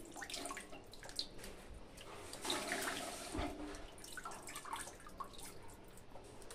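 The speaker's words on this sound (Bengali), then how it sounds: "এভাবে জল নিংড়ে নিংড়ে আমি চিকেনটাকে ধুয়ে নেব" Water splashes and trickles in a sink as raw chicken is squeezed and rinsed by hand, soft drips and gurgles rising and falling at close range.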